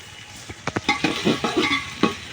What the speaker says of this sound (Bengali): তাহলে সবজিটা আমি নেড়ে দিয়েছি একটু